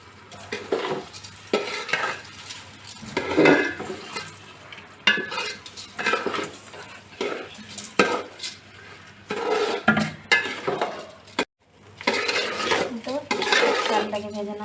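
Rice fries and is stirred in a pan, a spoon scraping and clattering in uneven bursts over a faint sizzle, close and fairly loud.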